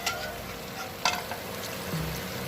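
Chicken pieces sizzling and frying in a hot pan while a restaurant-style rogan josh curry is cooked, with a steady hiss and a brief louder spatter partway through.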